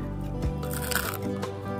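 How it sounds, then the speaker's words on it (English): A single crisp crunch of a spiced fruit and nut sourdough cracker being bitten, close up, followed by softer crunchy chewing. "A crispy, crunchy, sourdough, fruit and nut spiced cracker"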